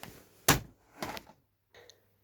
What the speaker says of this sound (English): She then slammed down her hands on the desk